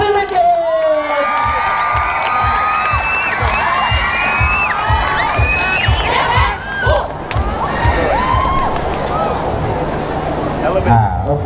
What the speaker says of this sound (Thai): ขอเสียงปรบมือต้อนรับน้องๆจากสตรีสิริเกต